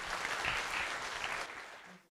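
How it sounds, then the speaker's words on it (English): Audience round of applause at the end of a business podcast interview recording, a dense burst of many people clapping that tapers off over about two seconds. "a big round of applause"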